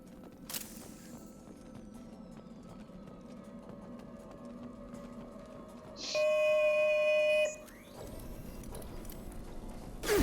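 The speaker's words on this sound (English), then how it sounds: "I was wondering what that beep was." A security drone in the video game Mass Effect 2 emits a steady electronic beep tone lasting over a second, rising above a low game ambience with faint footsteps.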